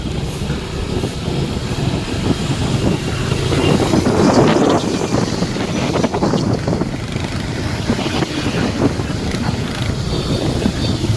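Strong wind buffets an outdoor microphone as rain threatens, a steady broadband roar with low rumbling gusts that swell around the middle, close and loud throughout.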